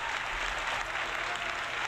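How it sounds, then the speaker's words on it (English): Steady audience applause during a live retro gaming stream, a continuous moderate wash of clapping from a small crowd lasting the whole moment without a break. "They're clapping for you."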